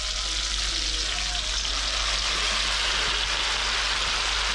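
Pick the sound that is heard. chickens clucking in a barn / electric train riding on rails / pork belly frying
pork belly frying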